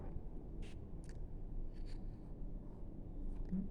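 Chalk or marker writing numbers on a board during a Class 5 maths lesson, a few short scratchy strokes in separate bursts over a steady low room hum, fairly close and modest in level.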